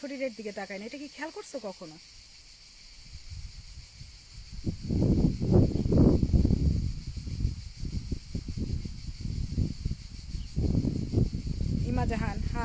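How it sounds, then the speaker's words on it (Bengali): Crickets chirp in a steady, high buzzing drone that persists behind someone talking close by. "ঝিঝি পোকার ডাক"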